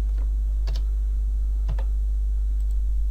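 A handful of sparse, light keystrokes on a computer keyboard as a password is entered, quiet taps spaced apart over a steady low hum, with no talking.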